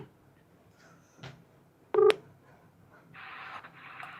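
A telephone number is keyed in for a call during a Telugu talk show. A brief, loud burst of electronic keypad tones stands out over quiet background hiss, with a few soft knocks before and a noisy stretch after.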